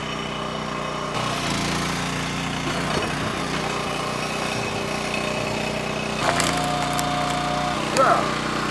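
A running log splitter chugs steadily under a continuous engine drone, with a sharp crack and brief squeal near the end as the wood splits apart.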